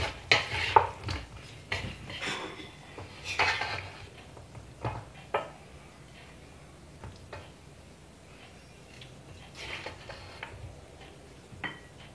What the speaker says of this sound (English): Give it one more good stir.